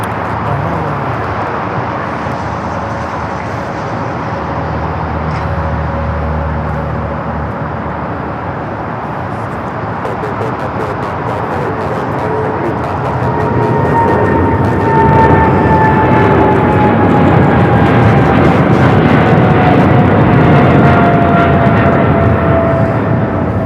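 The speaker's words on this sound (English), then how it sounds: "we do have an Air China 777 freighter now rolling down at 25 at left" An Air China Boeing 777 freighter takes off from runway 25 left at LAX. Its broad jet roar is heavy and loud throughout, swelling stronger partway through with a rising whine over it. No voices.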